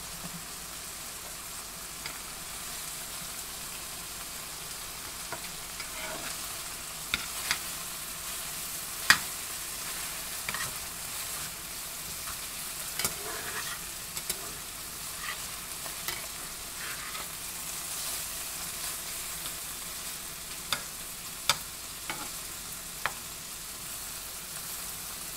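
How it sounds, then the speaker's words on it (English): Mushroom pastries frying in a pan, a steady hiss of sizzling oil with scattered pops and crackles, constant and close throughout, no one talking. "Can you guys hear the sizzling?"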